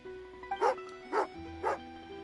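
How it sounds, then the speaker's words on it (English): A dog named Tagarin gives three short, evenly spaced barks, moderately close, over a steady background tone with no speech on top. "Oh, a doggy."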